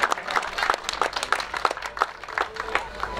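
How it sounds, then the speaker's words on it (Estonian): A crowd at a motocross podium ceremony in Põlva applauds the top three riders. The clapping is scattered and rhythmic, with a voice speaking over it. "Teile kõva aplaus kolmele kiiremale"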